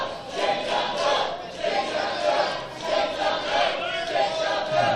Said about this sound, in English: Crowd giving their displeasure for Mr. O'Reilly here